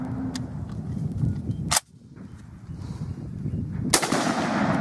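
Two sharp, loud M1 Garand rifle gunshots about two seconds apart, each a sudden crack followed by rumbling echo over steady outdoor background noise, with no talking.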